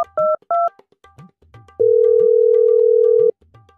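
A telephone call is placed to a friend: two short dial beeps, then a long, steady, loud ringback tone lasting over a second, with faint low murmuring between the tones.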